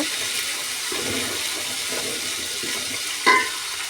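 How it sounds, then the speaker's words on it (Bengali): Onions with ginger-garlic paste frying in a pan give a steady, even hiss of sizzling, with faint stirring and a brief sharper clink near the end, and no voices. "আদা রসুনের পেস্টটা আমি দিয়ে দেবো এর মধ্যে। দিয়ে আবারও এটাকে আমি একটু নেড়ে ছেড়ে লাল করে নেব।"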